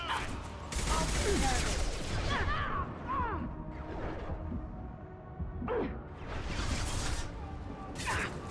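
Rapid bursts of gunfire from the Mass Effect 2 video game crackle in dense volleys with short lulls, and chirping effects mix into the firefight.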